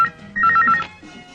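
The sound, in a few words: telephone ringing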